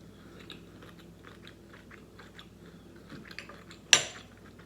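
Someone eats sticky honey-glazed shrimp up close, with soft, wet chewing and small bites in a quiet room, then one sharp clack of a utensil near the end.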